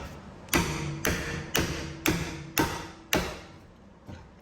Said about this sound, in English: I'm going to use my pry bar and a hammer